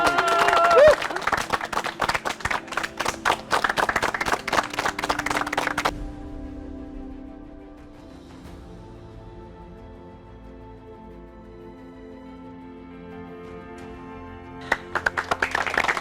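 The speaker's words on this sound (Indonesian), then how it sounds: "Ayo tepuk tangannya dong." An audience claps and cheers for the winner at a stage ceremony, brisk dense applause for several seconds that cuts off, then a quieter stretch before clapping picks up again briefly.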